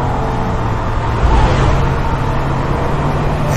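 A Holden race car on a record lap of the Nürburgring gives a loud, dense, continuous engine roar heard from close inside, with a steady drone and a slight swell in the middle, no speech.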